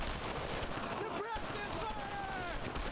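Dense gunfire rattles through a World War II battle in Brothers in Arms: Road to Hill 30, steady rapid shots heard beneath soldiers shouting to each other.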